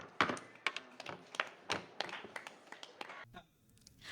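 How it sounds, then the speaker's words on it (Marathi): Students in a Marathi writing class clap for a classmate, with a scattered, uneven patter of claps of varying loudness over a few seconds. "याच्यासाठी टाळ्या वाजवा."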